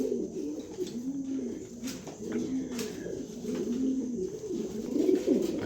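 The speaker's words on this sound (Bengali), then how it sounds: "জটিল এক জোড়া কবুতর" A pair of pigeons in a cage coo repeatedly and close by, their low throaty calls rolling on steadily with no talking.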